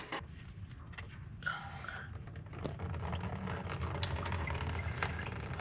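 Water drains out of an old machine abandoned for years, a steady close trickle and gurgle that grows a little louder partway through over a low rumble.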